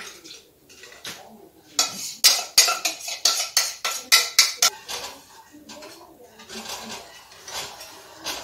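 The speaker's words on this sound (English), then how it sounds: "I'm stirring 2 pots at one time, and this takes talent" Spoons scrape and clink against the sides of two pots of coconut cream being stirred at once, a quick run of rhythmic metallic knocks in the middle flanked by softer scraping, close up.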